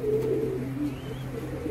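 Pigeons from a hybrid pair offered for sale coo close by, a low steady throaty warble with faint bird calls over it and no talking.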